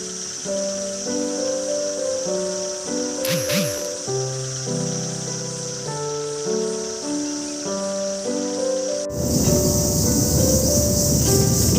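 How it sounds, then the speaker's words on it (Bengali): Crickets chirp at dusk in Gorumara forest, a steady high-pitched chirring over faint tonal background sounds, swelling louder near the end. "চারদিকে শুধু ঝিঝির শব্দ"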